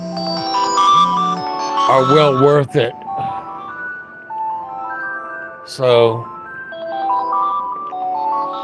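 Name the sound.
alarm going off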